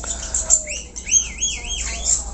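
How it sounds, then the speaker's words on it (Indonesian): A jalak rio-rio, the red-rumped starling, sings nearby in quick, bright chirps and looping whistled warbles that rise and fall, loud and clear with no voices. "jalak Rio-Rio atau yang disebut dengan tunggir merah"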